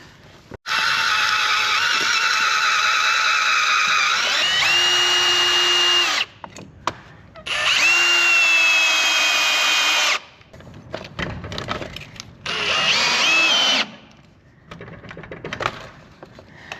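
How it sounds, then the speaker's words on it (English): A power drill pre-drills holes for a Genie side-mount garage door opener bracket, whining loudly in three long bursts with brief pitch shifts and short pauses between them. "I'll pre-drill."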